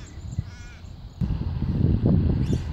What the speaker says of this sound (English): This bird is called magpies.